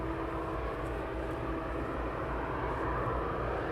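Jet engine noise from an aircraft at East Midlands Airport fills the air as a constant, broad roar with a faint steady tone, heard at a distance and without voices.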